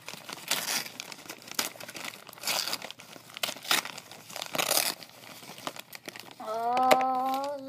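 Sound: gift wrapping paper being ripped open

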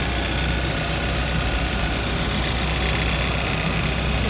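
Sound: 2012 Kia Optima two-liter turbo engine idling

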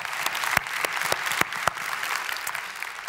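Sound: audience applause for a panel

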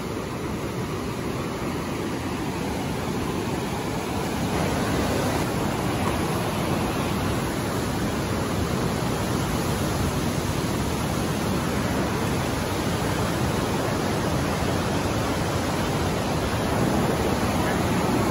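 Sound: Niagara River white water rapids in the gorge

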